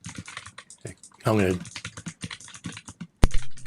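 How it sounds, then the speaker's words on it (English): Rapid clicking of keys on a computer keyboard while someone texts, a close run of light taps under someone talking, with a louder thump near the end. "He's texting somebody. Typing."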